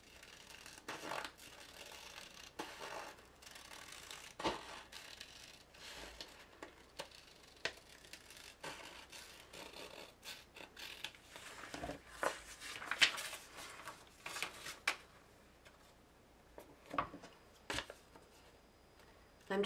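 A craft knife or scissors trims a paper card template for a flag frame birthday card, giving soft, scattered cutting clicks and snips at irregular intervals, fairly quiet and close, with no talking.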